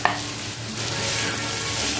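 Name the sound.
stir-frying bitter gourd with red chili powder in a pan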